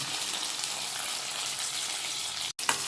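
Potato, green chilli and curry leaves sizzle in hot oil, a steady, dense, close hiss with a brief break near the end.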